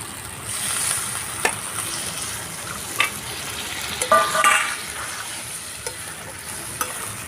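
Potatoes and spice paste sauté in a pan for jackfruit kofta curry, a continuous soft sizzle broken by several sharp stirring clinks and scrapes; no one speaks.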